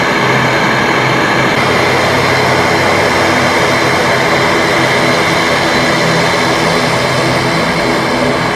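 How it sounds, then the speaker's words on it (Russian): A Utair ATR 72-500 turboprop airliner at an airport gives a loud, steady engine drone close by. The roar holds for the whole stretch, with no talk over it. "А вот и прибыл наш самолет ЮТР из Сургута."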